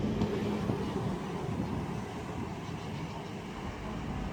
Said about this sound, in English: we've got the arrival of the 10:48 ScotRail service from Edinburgh to Milngavie